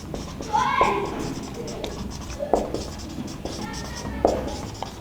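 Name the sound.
writing on a board during a chemistry lecture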